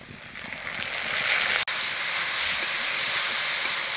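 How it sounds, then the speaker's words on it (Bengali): Ginger and green chilli paste heats in a pan, giving a steady, loud sizzling hiss that continues throughout, broken once by a brief sharp dropout near the middle. "একটু গরম করে ফুটিয়ে নিচ্ছি"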